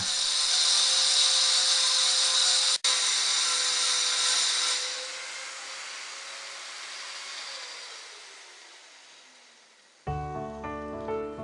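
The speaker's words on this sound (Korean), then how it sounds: "주로 글라인더의 절삭날을 이용해 윤곽 작업을 합니다." A grinder runs loudly while glass is engraved, a steady high whirring that winds down and fades away, followed by a burst of instrumental music at the end.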